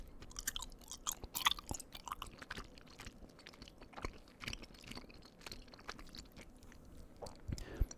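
Soft, wet chewing of gummy bear candies close to the microphone, with irregular squishy bites and sticky mouth sounds throughout, faint whispering at times.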